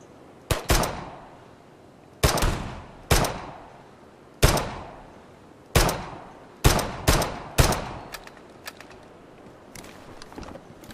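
Gunfire in the video game Commando Hero 2, about eight sharp loud shots in irregular bursts, each with a short decaying tail, separated by quiet gaps with faint clicks, no talk.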